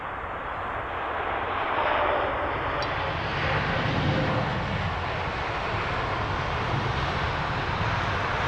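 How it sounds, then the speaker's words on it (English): An American Airlines Dreamliner airliner rolls in to land at Heathrow, its engines roaring loud and steady, swelling slightly and then holding a broad rumbling whine. "Nice little mini wheelie from the American Dreamliner"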